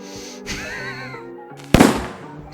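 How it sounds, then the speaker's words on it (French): A firework in the video game Escape the Backrooms whistles with wavering tones, then bursts in a single sharp, loud bang that crackles briefly. "Reste pas proche du feu d'artifice quand tu le lances."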